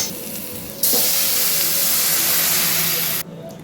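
Water poured into a hot pan of frying green mango in mustard oil bursts into a loud, sudden steaming hiss that holds steady for over two seconds, then cuts off abruptly.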